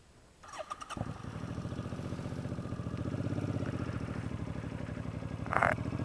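A bobber motorcycle engine cranks over with a short starter whir, catches, and settles into a steady, loud, close-up idle with a throaty, even rumble and a brief rev near the end.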